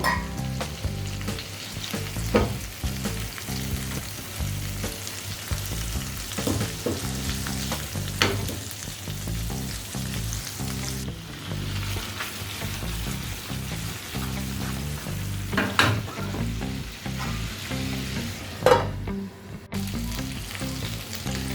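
Chicken tangri kabab cooking covered on a low gas flame and stirred now and then, a steady loud sizzle and frying crackle throughout with occasional scraping knocks of the spoon against the pan.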